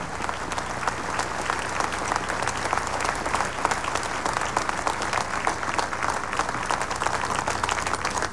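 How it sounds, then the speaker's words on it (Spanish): Sustained applause from a large crowd at a military parade in Chile, steady dense clapping throughout, loud and continuous with no pauses. "Los despedimos con un fuerte aplauso"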